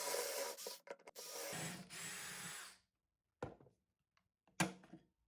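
A board clamped in a Kreg 520 pocket hole jig, with a sustained whirring drill-like run that stops, followed by a few short sharp clacks and squeezes, close up and with no speech.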